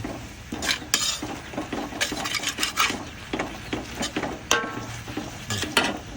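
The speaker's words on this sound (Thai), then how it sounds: "คั่วไปเรื่อย" Chinese herbal ingredients are dry-roasted in a pan for a vegetarian braised radish dish: a metal utensil scrapes and clinks against the pan in quick, irregular strokes, close and fairly crisp, with no voice over it.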